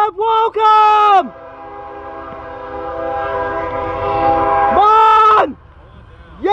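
BNSF northbound coal train in Marion, Ohio, sounding a loud multi-tone horn in short blasts and a long held blast, with the train's rumble underneath and brief voices nearby.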